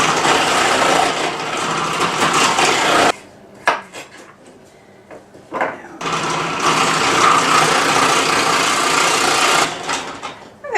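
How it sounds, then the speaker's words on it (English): A food processor chops onion, carrots and sweet potato in two loud whirring runs with a short pause between them, filled with clatter and rattling. "I'm going to run it through the food processor"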